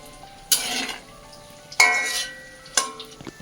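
Paneer pieces drop into hot oil in three separate batches. Each makes a sharp, loud burst of sizzling that fades over about half a second, with quiet gaps in between.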